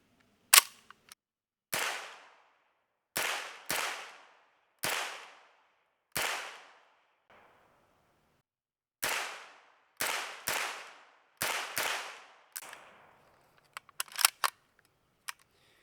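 A suppressed HDA3 rifle fires 115-grain rounds, giving about a dozen sharp, close cracks at an uneven pace with short pauses between groups and a quick cluster near the end.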